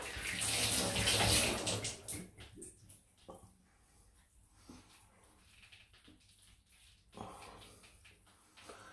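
Water runs from a tap to wet an alum block after a safety-razor shave: a close, loud splashing gush at first, then fainter trickles and drips with scattered bumps and handling noises.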